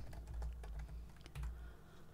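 Typing on a computer keyboard, a quick run of close, light key clicks at a steady pace with a low background hum.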